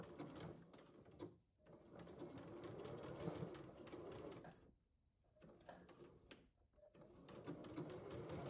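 A home sewing machine stitches a straight seam on a fabric wrap skirt. It makes close, rapid mechanical chatter in several runs, with short pauses between them.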